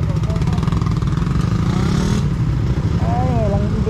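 A motorcycle engine idling and creeping into a parking area, its steady low rumble close by, with people talking over it and brief whistle-like tones drifting in the background.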